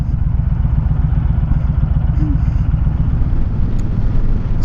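A 2017 Honda Fury motorcycle engine while riding, a steady, loud low throbbing drone with rapid pulsing and constant wind and road noise, without talking.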